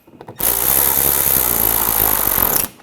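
A power driver snugs screws on the front parking sensor under-panel of a 2007-2013 BMW X5, a few faint clicks giving way to one close, loud, steady motor whir of about two seconds that stops sharply.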